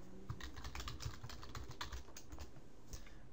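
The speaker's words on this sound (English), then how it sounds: "I'm going to type left mouse and I'm going to get left mouse button" Steady typing on a computer keyboard while setting up variables in an Unreal Engine 4 Blueprint, with fairly quiet, even clicking keystrokes and no talk.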